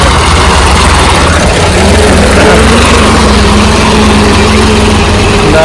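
A tractor engine runs in a village during light rain, a loud, close, steady low drone with a rough mechanical rattle and no pauses.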